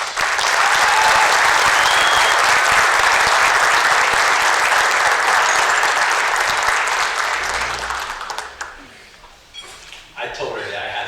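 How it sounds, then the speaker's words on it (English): Sustained audience applause at a high school Hall of Fame induction ceremony, loud and dense for about eight seconds, then thinning and fading with scattered claps and murmurs toward the end. "Ladies and gentlemen, a round of applause for Megan"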